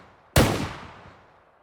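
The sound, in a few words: shotgun firing in the video game S&box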